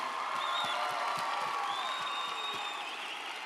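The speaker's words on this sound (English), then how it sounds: "let's give them one more round of applause" A crowd applauds and cheers for worship choirs after a musical performance, dense sustained clapping with high whoops and whistles rising over it throughout.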